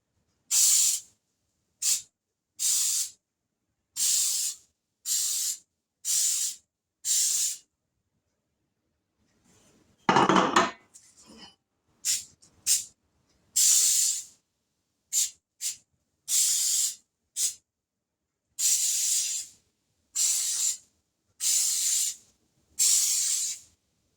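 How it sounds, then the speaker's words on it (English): Baker's Joy baking spray hisses onto donut pans in short repeated bursts, about fifteen sharp close sprays separated by silent pauses, with a brief rustle in the middle. "I'm going to spray these with Baker's Joy."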